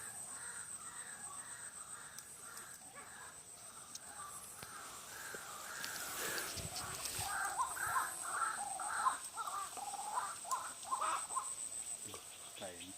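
Repeated harsh, yowling bird calls like fighting cats, from a male and female bird, in bursts, somewhat distant, over a steady insect whine, with faint talking in the background.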